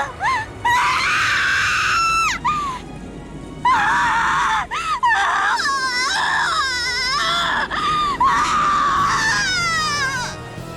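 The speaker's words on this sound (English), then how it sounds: "Erica crouched, screaming and clutching at her head." Erica shrieks and screams in anguish, crouched and clutching her head, in the voiced visual novel Umineko no Naku Koro ni: loud, piercing, wavering cries in several long bursts over a faint rain-like backdrop.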